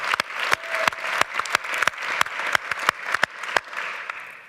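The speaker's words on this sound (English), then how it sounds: "Let's give them a huge round of applause." An audience at a climate plenary applauds the Aspen Energy Environment team, with a dense wash of clapping punctuated by many sharp, close individual claps throughout.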